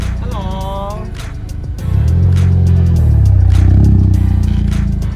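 A 2020 Subaru STI with a Tomei exhaust revs up, its deep engine note rising loud and close after a short stretch of idle, as people talk around it.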